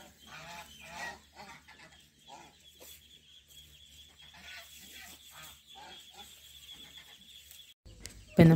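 Soft quacking and peeping from a Manila duck and its ducklings, scattered and fairly quiet, ending in a sudden loud rustle.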